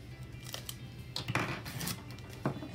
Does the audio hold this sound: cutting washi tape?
yes